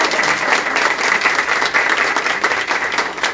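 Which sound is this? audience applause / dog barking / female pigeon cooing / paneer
audience applause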